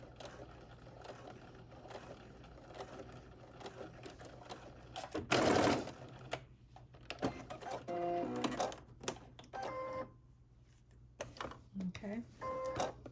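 A sewing machine runs a short burst stitching a sweatsuit seam with a backstitch, quiet and close amid handling clicks and scattered soft noises, with some speech nearby.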